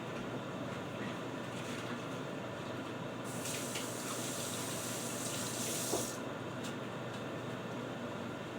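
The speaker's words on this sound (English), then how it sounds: "Y'all wonder why I keep going over there washing my hands." Steady running tap water pours continuously into a sink in a home kitchen, a constant hiss with a brief brighter splash midway as hands are washed under the stream, no voices.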